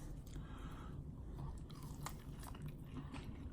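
Close, quiet chewing on a bite of cube steak, soft moist crunches and squishy mouth sounds repeating steadily with no talking.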